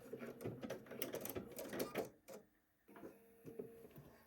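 A sewing machine locking a stitch on a pants welt pocket, a close, faint rapid mechanical clatter that pauses briefly and resumes with a few short runs.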